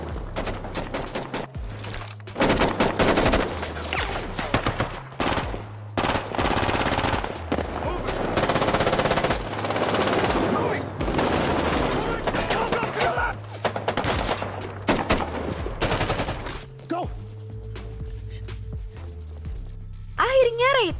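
Dense film-shootout gunfire: rapid automatic bursts and single shots crackle for most of twenty seconds, loud and close, mixed with a voice speaking between volleys.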